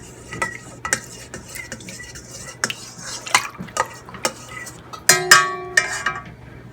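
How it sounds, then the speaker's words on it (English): A spoon stirs yeast into liquid in a bowl for artisan bread dough, giving a series of close, irregular clinks and scrapes against the side, a few sharper taps near the end, with no talking. "I'm just going to kind of stir that in and dissolve the yeast"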